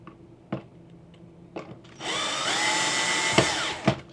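A power drill driving screws into an RV air conditioner gives one sustained whirring burst of under two seconds, close and loud, set among a few sharp knocks and clicks.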